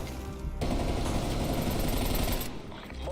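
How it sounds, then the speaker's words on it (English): Hostile sentry turrets firing in a video game, a dense, steady burst of rapid automatic gunfire that rattles loudly for about two seconds before stopping abruptly. "Multiple hostile sentry turrets working your AO."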